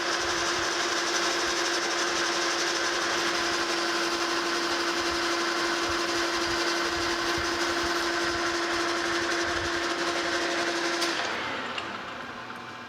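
A metal lathe spins steadily at 720 RPM while machining a replacement eyepiece adapter for a Hilger-Watts autocollimator, giving a constant close whine with a steady tonal hum that winds down near the end.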